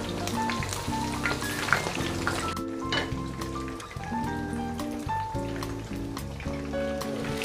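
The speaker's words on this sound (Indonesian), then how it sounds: "Ayamnya digoreng sampai matang ya teman semua, sampai warnanya cantik kuning kecoklatan ya" Chicken pieces deep-frying in hot oil, a constant dense sizzle and crackle with scattered pops, close and steady throughout.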